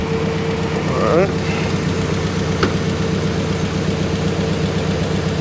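A 1949 Willys engine runs steadily at a raised idle to get the alternator charging, a close, even rumble with a brief throttle blip partway through.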